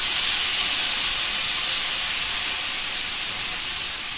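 Eggplant sizzles hard in hot oil in a pan for tortang talong. The hiss is loud, close and steady, easing off slightly toward the end, with no talk over it.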